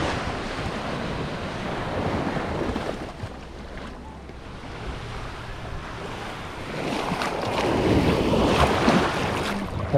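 Ocean waves washing onto the beach at Playa del Carmen, Mexico, a steady roar of surf with wind buffeting the microphone, swelling louder toward the end, with no talk.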